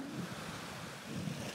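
Gusty wind blows by the sea in the Maldives, a broad steady roar with surf-like swells that buffet the microphone, with no other sounds.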